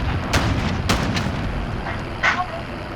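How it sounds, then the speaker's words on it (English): In a 32v32 Ground War match in the Modern Warfare beta, a cruise missile strike sends several heavy booms and blasts in quick succession across a few seconds over a continuous rumbling battle din. "Enemy cruise missile, take cover."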